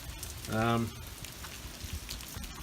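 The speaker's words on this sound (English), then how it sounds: "And the rain, it's coming down a bit" Soft steady rain falls in the background in Florida during Hurricane Irma, a brief tonal hum or voice rising over it for a moment.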